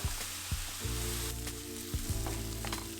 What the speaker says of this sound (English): It begins with sauteing the onion